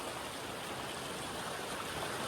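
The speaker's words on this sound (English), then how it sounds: "there's another little waterfall there, and the water just comes down here" Water from the little waterfall and stream at Cox Hollow, Governor Dodge State Park, rushes in a steady, even hiss with no pauses, moderately distant and fairly quiet, with no voices.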